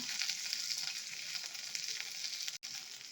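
Okra frying in a pan over medium flame for a dahi bendi gravy, giving a steady, close hiss and sizzle throughout with one brief gap near the end.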